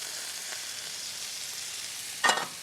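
Sesame-crusted ahi tuna sears on a flat griddle with a steady soft sizzle, then a sharp brief burst of crackle as the fish is flipped near the end.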